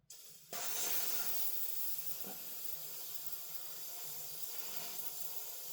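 Airsoft green gas hisses loudly and steadily out of the valve of a version 2 PMAG gas blowback magazine for a Double Eagle Noveske N4 rifle, a broad spitting hiss that starts abruptly and runs on without pause.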